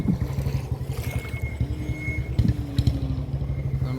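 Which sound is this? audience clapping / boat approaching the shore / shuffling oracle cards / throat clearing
boat approaching the shore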